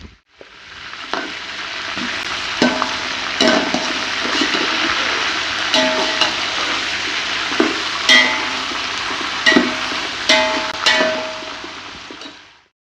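Chicken fries in a pot for chicken pulao, giving a loud, close, continuous sizzle broken by regular clanks and scrapes of a spoon stirring, with no voices over it.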